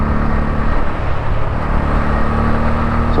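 A 2024 Bajaj Pulsar N160 naked street motorcycle pulls in fifth gear under open throttle, its engine droning steadily and loudly with a constant hum and wind rush, no gear changes.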